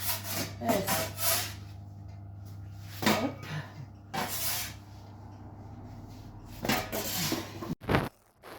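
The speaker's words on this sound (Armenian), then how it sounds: "Հայկն է շփշփալով միսը գցում է" Hands spread meat topping over lahmajo dough, giving soft rubbing and slapping strokes in several bursts with quiet pauses and a low steady hum behind, and a brief voice.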